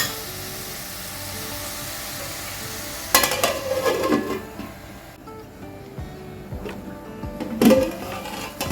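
Sliced onions frying and being stirred in hot oil in a pan for a cashew mutton curry: a steady close sizzle with bursts of spoon scraping and stirring, brief clatter around the middle and again near the end, no talk.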